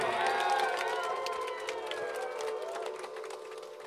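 Crowd cheering and applause after a live hip-hop performance at a Tokyo club show, loud sustained whoops and shouts over a tonal electronic drone, with clapping and voices blending in the crowd noise.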